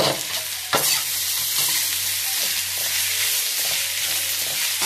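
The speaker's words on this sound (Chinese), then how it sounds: "翻炒。" Jicama, carrot and garlic stir-fried in an oiled wok, giving a dense, loud, continuous sizzle with one early clack of the spatula and faint stirring scrapes underneath.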